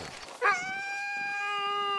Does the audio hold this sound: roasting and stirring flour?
no